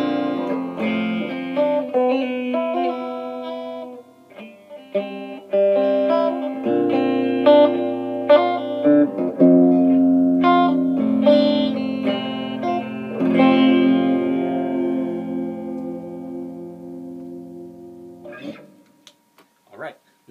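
Dean Vendetta XM electric guitar played on both pickups through a clean setting, ringing chords and picked notes with bright sustain and light effects, alone and close, fading out near the end.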